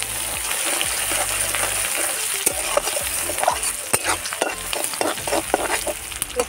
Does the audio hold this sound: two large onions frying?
yes